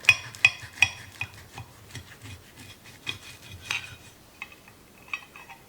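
A knife taps and scrapes through an iced apple Danish of puff pastry on a plate, a series of sharp, quiet clicks in an uneven rhythm, close by with no talking.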